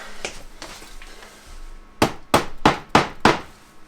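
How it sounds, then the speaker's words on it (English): A rubber mallet drives hardware into wooden shelving: five sharp, evenly spaced knocks ring out close and loud after a quieter stretch of faint handling noise. "Good old rubber mallet."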